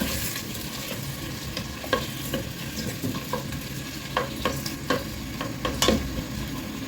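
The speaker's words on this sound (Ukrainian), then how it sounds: "трошечки покоцаю, роз'єднаю ці великі куски цибулі" Large onion pieces fried with garlic in a pan for an autumn cream soup, stirred and broken apart with a utensil, with a steady sizzle under sharp scraping taps, close and alone.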